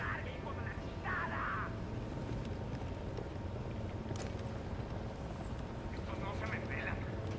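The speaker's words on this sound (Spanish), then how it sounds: "Un helicóptero, que no os vea." A helicopter's steady, droning rotor hum runs throughout in Tom Clancy's Ghost Recon Wildlands, with muffled game sounds and brief bursts layered over it.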